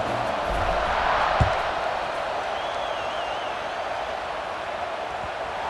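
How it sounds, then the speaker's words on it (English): A stadium crowd buzzes in the EA Sports College Football 26 video game during a tied fourth quarter after a score, a dense, steady roar of many voices with a brief thud near the start. "this crowd is buzzing after that last score"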